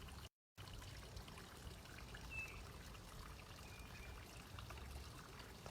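Water pours and trickles down a front yard fountain as a steady, soft outdoor wash with one brief dropout near the start, faint bird chirps behind it and no talking.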